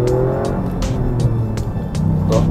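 Toyota GR Yaris rally-bred hatchback cornering at high speed, a steady loud engine drone with road and tyre noise throughout, faint squeal near the end.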